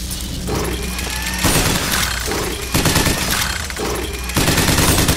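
Dense, loud automatic gunfire from the video game Bioshock Infinite comes in continuous bursts with shattering, metallic crackle, broken by brief shifts in intensity.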